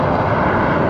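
A fixed-wing airliner passes at Austin Bergstrom airport, its jet engine roar loud, steady and broadband throughout this short moment with no talking.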